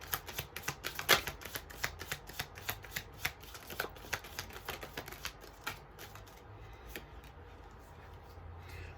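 Tarot cards are shuffled by hand, with a rapid run of crisp riffling flutters and snaps up close that slows into softer, sparser shuffling.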